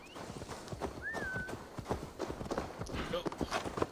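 Horse hooves clip-clopping in the video game Assassin's Creed Valhalla, a steady rhythmic trot under someone talking, with a brief whinny-like tone.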